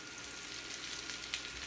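Yellow bell pepper sizzles in hot oil in a pan while veg chow mein is cooked, a soft, steady frying hiss with a brief crackle near the end.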